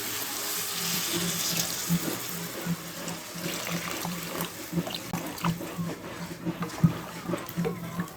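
Water pours steadily into a cooking pan of potato and brinjal curry, a continuous splashing gush heard close up with light clinks near the end.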